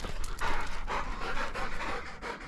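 Hunting dogs pant hard after retrieving quail, a steady, close, rapid huffing breath that carries on through the whole stretch with no talk over it.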